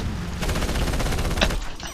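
Rapid bursts of gunfire from the Battlefield Heroes video game rattle on continuously and loudly, with a sharper shot standing out near the end.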